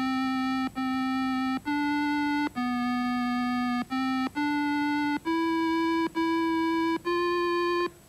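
A computer-generated tune from the Logo Music System: a short melody of pure, synthetic electronic tones in separate steady notes that step up and down, clean and alone.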